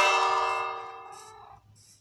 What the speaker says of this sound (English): it turns on the bell